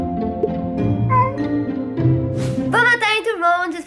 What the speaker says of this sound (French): C'est le miaou le plus beau de la Terre.